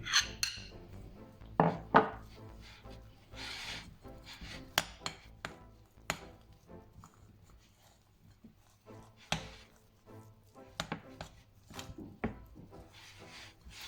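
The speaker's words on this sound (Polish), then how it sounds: "I też wszystko dokładnie trzeba teraz wymieszać i zagnieść takie jedno lite ciasto." Shortbread dough is mixed and kneaded by hand, giving soft, irregular slaps, presses and rubs close by, with a few sharper knocks scattered through and no talking.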